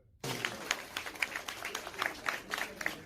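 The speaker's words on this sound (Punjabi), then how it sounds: "ਆਪਣੇ ਆਪ ਦਾ ਜ਼ੋਰਦਾਰ ਤਾਲੀਆਂ ਨਾਲ ਸਵਾਗਤ ਕਰੋ" Applause at a laughter-club session: a group claps energetically after a pause, producing uneven, close bursts of hand claps over three seconds.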